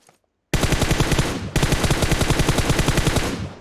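Rapid automatic gunfire in the PUBG Mobile video game, two loud sustained bursts of evenly spaced shots after a brief silence, with no talking over them.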